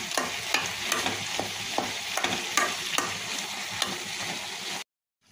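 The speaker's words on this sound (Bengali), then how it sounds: "এখন পেঁপেটা একটু এভাবে ঠুকে নেব, ম্যাশ করে নেব।" Cooked papaya being pressed and mashed in a hot pan gives a series of rhythmic stirring scrapes and taps over a gentle sizzle, then stops abruptly into silence.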